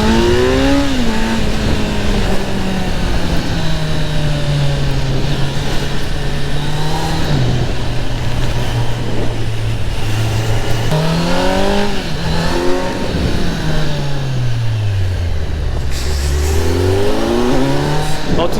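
A Kawasaki Z900 motorcycle rides through a neighborhood and accelerates hard. The engine note rises and falls through repeated revs and gear changes, loud and close throughout.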